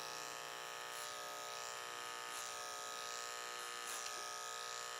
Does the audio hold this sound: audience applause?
no